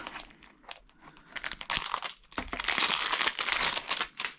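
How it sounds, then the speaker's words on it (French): Plastic packaging crinkling and rustling while an airsoft tracer unit is unboxed, close and busy, with bursts of crackling that swell into a louder continuous crumple. "Donc on va procéder au petit déballage."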